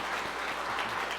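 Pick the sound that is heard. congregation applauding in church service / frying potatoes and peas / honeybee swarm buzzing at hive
congregation applauding in church service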